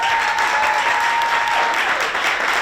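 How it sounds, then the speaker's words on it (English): A panel audience at a real estate event in El Paso breaks into loud, continuous applause, a thick even wash of many hands clapping with no speech on top. "let's give a round of applause for that"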